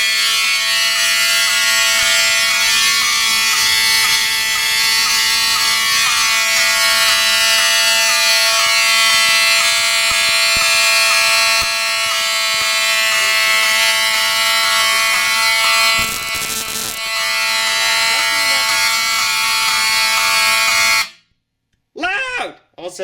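A building fire alarm blares after a pull station is pulled, a loud, steady, close electronic tone that holds for about twenty seconds, then cuts off abruptly with brief movement noise following.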